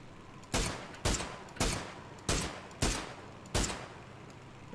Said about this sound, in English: Here we are getting shot at.